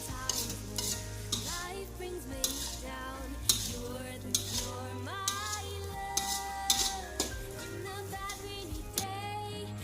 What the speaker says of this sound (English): we stir all the ingredients like this